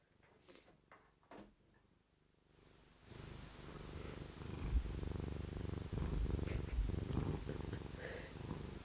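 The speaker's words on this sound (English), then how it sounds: "Do you want to hear Brooklyn purring" A cat purrs softly and steadily up close, a continuous low rumble following a few seconds of faint handling and knocking sounds in a quiet indoor room.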